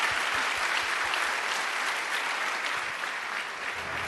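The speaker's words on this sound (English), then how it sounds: "One final round of applause" At the close of the 2018 Louisiana Young Heroes Awards ceremony, an audience gives sustained, dense applause that carries on steadily for several seconds, loud and continuous.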